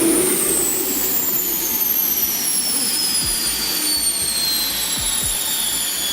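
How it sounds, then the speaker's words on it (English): Deutz T216 diesel engine driving a water jet propulsion system, a loud continuous roaring rush of engine and water noise with high whining tones slowly falling in pitch, steady throughout with a few low thumps. "A rugged diesel engine feeding a brutal water jet propulsion system"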